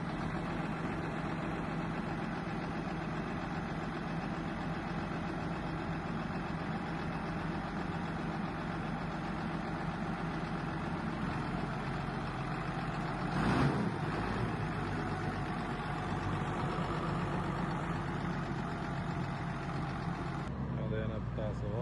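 An old Belarus tractor engine idles with a steady low mechanical drone throughout, close by, with a brief louder knock midway and faint voices in the background.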